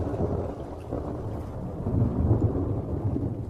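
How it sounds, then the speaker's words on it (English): Distant thunder rolling as a low, continuous rumble with faint wind, steady and unbroken for a few seconds with no voices. "the distant sound of thunder triggers the crocs to start breeding"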